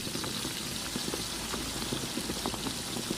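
Sliced pineapple sautéing in a pan, with a dense, steady sizzle and bubbling crackle that stays close and even throughout, with no talking.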